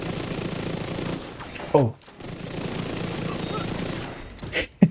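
Rapid gunfire hammering a mini tank boss in a video game, a steady dense stream of shots that breaks off briefly and resumes, with a short spoken exclamation and louder bursts at the end.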